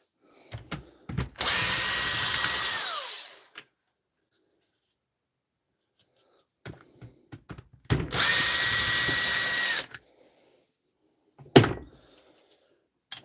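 A power drill drives screws out of a DeWalt tool's casing in two sustained whirring bursts with a pitch that winds down at the end, separated by quieter clicks and handling knocks.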